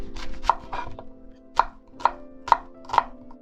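A knife chops bacon into cubes steadily on a cutting board, a series of sharp, close knocks with a few quicker cuts at the start, no voices.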